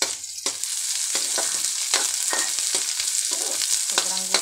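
Sliced onions fry with a steady, loud sizzle in a pan for a sinigang of salmon head with shrimp, with several bursts of stirring and scraping layered over the crackle.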